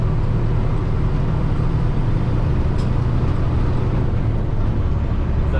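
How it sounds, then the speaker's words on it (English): A truck pulls uphill on a test drive after an overhaul, a steady loud engine and road drone heard from inside the cab, continuous with no variation in level. "We're test driving this truck"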